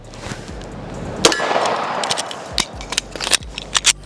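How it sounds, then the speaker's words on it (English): A Glock fitted with a Strike Industries frame is put through a magazine change: sharp metallic clangs and clicks ring out close by, a few spaced hits followed by a quick cluster of snaps near the end. "See how I can do a mag change."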